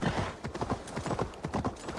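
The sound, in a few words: horse hoofbeats in Assassin's Creed Valhalla video game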